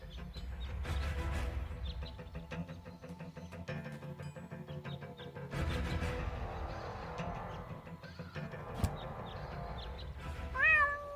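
In the video game Deponia, a cat meows several times over a steady background drone, with a sharp, rising meow near the end.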